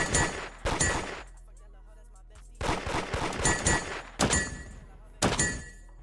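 Gunfire in the Roblox game Da Hood comes in several sharp, loud bursts of rapid shots separated by short quiet gaps, with a dense crackling texture to each volley.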